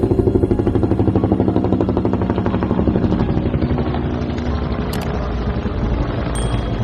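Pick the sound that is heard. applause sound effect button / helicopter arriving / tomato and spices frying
helicopter arriving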